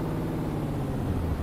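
Steady low rumble of a MAN TGX XXL truck engine in Euro Truck Simulator 2, a constant idling drone with no change in pitch or level.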